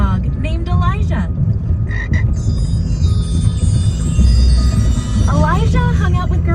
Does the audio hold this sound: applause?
no